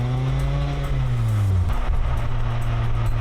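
A car driving along a road toward the mountains of Hiroshima, its engine droning steadily with a falling pitch before shifting midway, accompanied by continuous road and tire noise up close.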